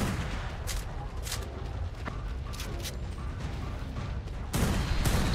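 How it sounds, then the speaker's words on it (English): Sharp sniper rifle shots crack in the Ark video game during a boss fight, coming as several separate reports at moderate distance over a constant mechanical background rumble, with a louder burst of activity near the end. "I'm going to continue firing sniper rounds from this distance"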